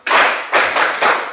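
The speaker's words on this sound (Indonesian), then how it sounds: "Baik, jadi tepuk tangan dulu untuk Dinda." Short bursts of classroom clapping for a student, three close, loud rounds of hands beating in rhythm, each lasting a fraction of a second.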